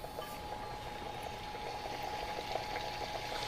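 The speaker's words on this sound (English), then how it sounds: "you can start to fry the Chinese long donut" Chinese long donut dough strips frying in hot oil, a steady dense bubbling sizzle with soft crackles throughout, close and even in level.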